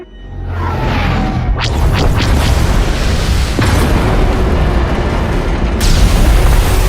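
Heavy explosions from incoming fire strike a transport ship in the SWTOR game, a dense continuous roar of booms and bursts with whooshing debris, loud and sustained with a fresh blast near the end.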